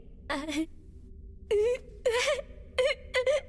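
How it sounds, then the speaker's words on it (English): Someone crying in a series of short wailing, moaning sobs, rising and falling in pitch, heard in separate bursts over a quiet background. "Is it just me, or does it sound like someone is crying?"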